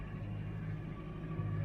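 A sailboat's motor drones steadily at sea, a low, even engine hum with no break and no voices.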